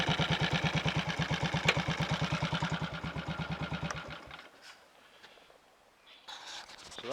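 A Triumph Tiger Cub motorcycle engine, fuelled with E10 petrol and left standing two months, fires and runs with a steady rapid thumping for about four seconds, then dies away, leaving faint background noise and brief rustles.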